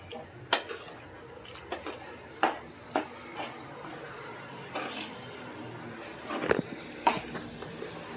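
A lid is set on a pot of prawn thokku, giving a few sharp metallic clinks and clatters spread across an otherwise quiet kitchen.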